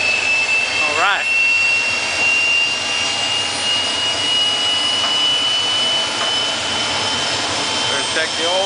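A Saturn 1300 gas turbine engine, freshly overhauled, running under a load test: a loud, steady jet-like roar with a high whine holding constant throughout, near and continuous, with a voice briefly heard under it.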